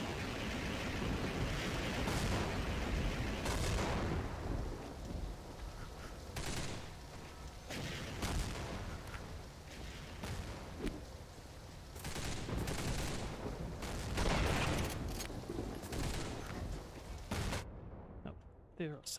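Rifle gunfire in the Half-Life 2 Get A Life mod, repeated bursts and single shots cracking through a busy combat scene with explosions, loud and fairly close, continuing for most of the stretch before cutting to quiet.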